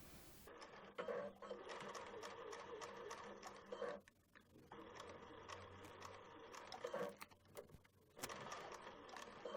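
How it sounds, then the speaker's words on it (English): A sewing machine stitches down the bottom ruffle of a skirt in steady runs of rapid mechanical whirring, pausing briefly around the middle and again near the end, with a short back-stitch burst between runs. "But let's go ahead and sew this all down. Back stitch too."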